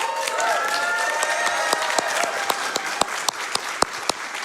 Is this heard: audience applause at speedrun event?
yes